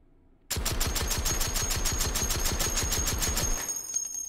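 An H&K CAWS shotgun fired with a suppressor in the VR game H3VR, a rapid automatic burst of about twenty evenly spaced, sharp muffled reports with a faint metallic ring, lasting roughly three seconds and then ending.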